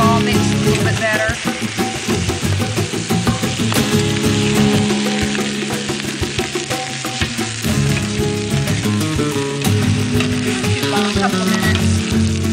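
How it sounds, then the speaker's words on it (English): Rice and tomato sauce fry in a paella pan with a loud, dense sizzle and crackle, stirred now and then, while music plays underneath throughout. "We're going to just fry it all up a little bit."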